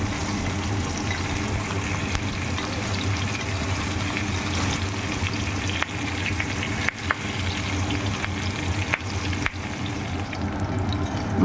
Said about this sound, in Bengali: মাছের এক পাশ ভাজা হয়ে গেছে, এবার উল্টে দিচ্ছি আর এক পাশ ঠিক একইভাবে ভেজে নেওয়ার জন্য।